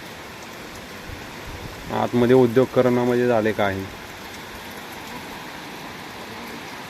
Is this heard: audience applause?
no